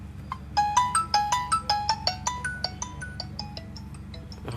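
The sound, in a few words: Xiaomi Mi Note 5 phone ringtone playing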